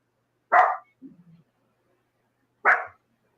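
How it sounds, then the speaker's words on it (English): A small dog gives two sharp, separate barks about two seconds apart, close and clear, with a soft whimper between them in an otherwise quiet setting. "Look at the little dog."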